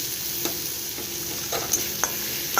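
Onion browned in oil with a ginger, garlic and coriander paste added, frying with a constant sizzle while a spatula scrapes the pan in a few sharp strokes, near and unaccompanied by speech.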